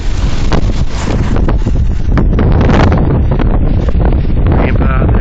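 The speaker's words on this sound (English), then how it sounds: "on top of a mountain right now, and it's pretty damn windy." Strong wind buffeting a microphone on a mountain top in the Clearwater Wilderness, a loud, continuous roaring rush with constant gusting and no pauses, with no voices.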